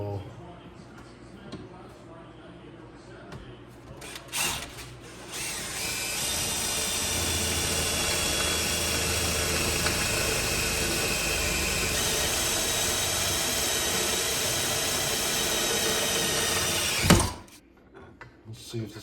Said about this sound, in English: Drill pilot hole.